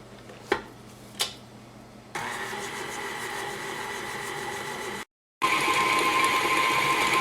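An electric mixer runs steadily while creaming butter and berry sugar for hazelnut shortbread, a continuous motor whir after a couple of clicks, briefly cutting out before resuming.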